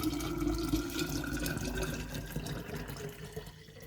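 Iced lemon tea poured from a container into another vessel over a kitchen sink, a steady close liquid splash and gurgle running throughout with no talking.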